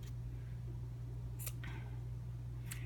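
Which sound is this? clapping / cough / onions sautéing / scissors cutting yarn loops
scissors cutting yarn loops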